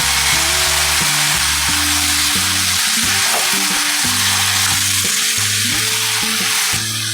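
Shredded cabbage sizzles loudly and steadily in a hot pan as tomato paste is added, with an underlying mechanical hum running throughout.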